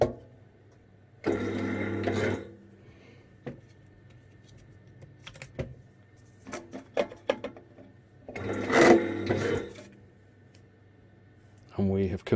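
An SPB 360 ComfortPlus sewing machine runs in a few short bursts of whirring stitching separated by quiet pauses and small clicks, close and moderately loud.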